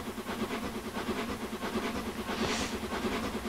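Train crossing a crossover in Train Simulator 2015 on the Exeter to Barnstaple line: continuous loud rolling rumble with rhythmic clickety-clack of wheels over rail joints and a brief hiss midway.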